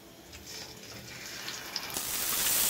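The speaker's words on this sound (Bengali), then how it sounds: "এখন আমি ম্যারিনেট করা মাংসগুলো দিয়ে দিচ্ছি।" Marinated beef drops into frying onions, starting with a faint crackle, then rising into a loud, steady sizzle during the last second.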